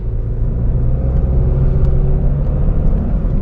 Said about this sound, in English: I hate the transmission sound coming to the cabin